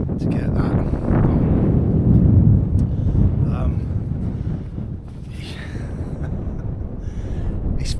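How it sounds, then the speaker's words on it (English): Strong wind roars across a hilltop wild camp at the top of the Mendip Hills. Heavy, close buffeting is loudest early, then eases slightly, and a voice is partly heard over it. "It's still very windy"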